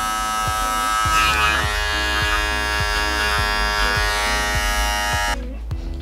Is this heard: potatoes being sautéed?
no